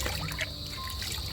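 Natural spring water from a hillside trickles and dribbles steadily close by, a thin liquid babble with small splashes and no talking.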